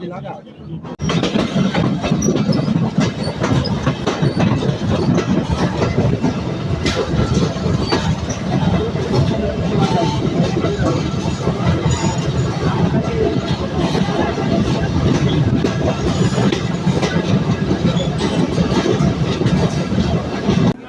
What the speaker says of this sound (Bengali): আমরা এসে পৌঁছালাম ফরিদপুর জেলার পুকুরিয়া রেল স্টেশনে।